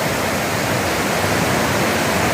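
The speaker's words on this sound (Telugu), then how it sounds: "పాల నురవతోటి ప్రవాహం కిందికి ఎలా పరిగెడుతున్నదో చూడండి" A foamy rainy-season stream rushes downhill from a pond overflow, a loud, unbroken roar of churning water heard up close with no other sounds.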